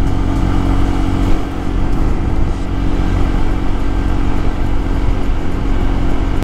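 A Honda PCX 160 motorcycle's engine drones steadily as it climbs a steep road, a loud, continuous mid-pitched hum with slight surges and no talking.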